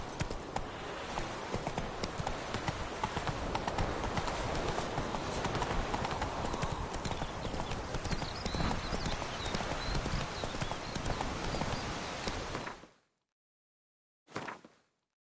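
Roach, the horse in The Witcher 3, gallops with rapid, rhythmic clip-clop hooves that run steadily and loudly, then stop abruptly, followed by a brief burst near the end.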